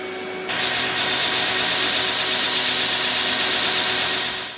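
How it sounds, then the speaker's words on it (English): A grinder starts up and grinds small carbon steel knife blades, a sudden loud onset followed by a constant close, harsh abrasive roar that fades slightly at the end. "fire up that grinder, and get on with these, well, get on with attempt number 2"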